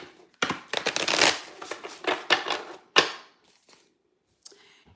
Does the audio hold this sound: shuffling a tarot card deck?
yes